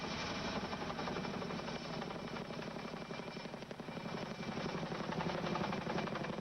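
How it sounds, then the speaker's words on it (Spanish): A US Army helicopter's rotor and turbine drone steadily and loudly, close and continuous, with rhythmic blade chop running throughout and no voices. "Un helicóptero del ejército de Estados Unidos fue enviado para transportar los restos."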